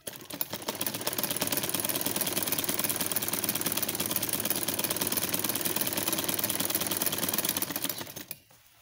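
A sewing machine stitches a red and skin-coloured pillow cover, running in a fast, steady mechanical patter for several seconds before stopping abruptly.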